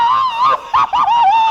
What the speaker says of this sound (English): these are the funniest sounds Tom has ever made